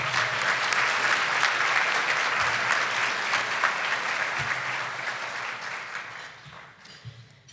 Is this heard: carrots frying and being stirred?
no